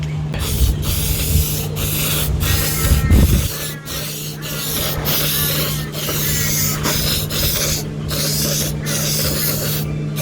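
Spray paint hisses in repeated short bursts onto a freshly welded trailer awning bracket, about a dozen sharp close blasts separated by brief pauses, over a low steady background hum.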